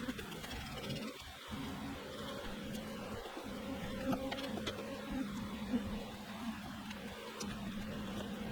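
Steady, faint buzzing of many honey bees droning together around a hive, continuous and low, with no voices.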